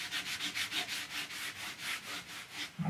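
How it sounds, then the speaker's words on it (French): Sandpaper rubs back and forth over the painted wooden corners of a piece being given a worn, antique finish, in steady rhythmic strokes close by and fairly quiet. "je cherche à user les angles"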